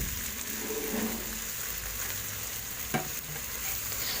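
Peas being fried and stirred in a pan, a steady close sizzle with soft scraping of the spoon, carrying on evenly without any talk.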